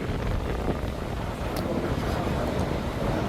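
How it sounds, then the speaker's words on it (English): Wind buffeting the microphone on a street in Funchal, Madeira, a steady broadband rush that fills the whole span with no clear gusts or pauses. "So it's a little bit windy right now."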